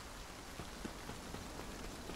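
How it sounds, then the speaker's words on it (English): Gentle rain falls in the video game Spirittea as a faint, even patter of drops with occasional slightly louder splashes. It is heard alone with no voices. "I like the sound of the rain, too."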